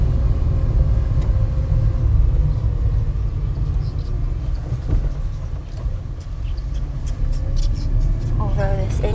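A car driving along a road near mountains, a steady loud low rumble of engine and tyre noise throughout, with people talking inside.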